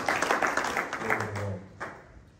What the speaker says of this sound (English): Let's just clap some hands for him.